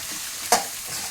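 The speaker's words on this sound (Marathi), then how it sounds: "फ्राय करा." Vegetables for Hakka noodles stir-fried in a pan: a steady sizzle with one short, sharp scrape of the spatula midway, close and alone with no talking.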